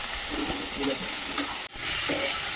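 Chili chicken sizzles in a frying pan with soy, chili and tomato sauces while being stirred, a steady close frying hiss broken by soft scraping strokes.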